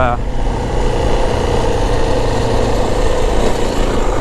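A 2025 Yamaha WR450F dirt bike engine runs while being ridden, a loud, continuous, rough engine drone that holds steady from start to finish.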